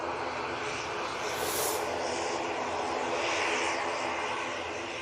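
An Aer Lingus turboprop passes up close at Manchester Airport, giving a steady loud engine drone with a brief hissing surge midway and no talk.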